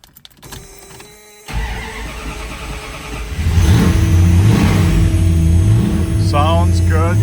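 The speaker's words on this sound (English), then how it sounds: "We're going to start up our Plymouth Satellite here." A 1973 Plymouth Satellite engine cranks and fires up, then settles into a loud, steady rumbling idle, with a brief whine near the end.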